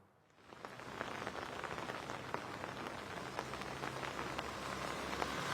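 Sudden heavy rain pours down in Chennai, a dense, steady hiss of countless drops pattering on surfaces. It swells in quickly at the start, then holds constant and fairly close without a break.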